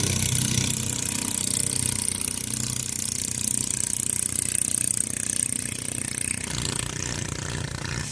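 Engine of a Pincara ferry boat carrying a car and several motorcycles as it crosses the river, a steady mid-pitched drone running continuously and fairly loud from start to finish.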